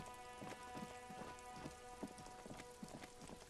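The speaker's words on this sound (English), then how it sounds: "It's rain." Rain in the video game Disco Elysium patters steadily and softly on surfaces, with scattered denser drops falling at an even rate and no voices.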